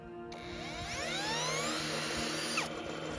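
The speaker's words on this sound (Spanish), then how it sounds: "Y con un taladro de batería, damos un movimiento inicial al sistema." A cordless drill whirs up in pitch and holds a high spinning whine for a couple of seconds before cutting off, spinning a generator to start it moving.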